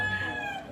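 A fighting cock crows once, close and fairly clear, with a short wavering call that fades out quickly.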